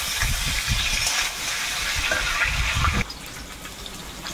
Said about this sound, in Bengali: আলুগুলো একটু ছিদ্র ছিদ্র করে নিয়েছি, এগুলো তেলের মধ্যে দিলাম